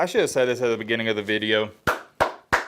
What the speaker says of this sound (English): Clap it up for Michigan.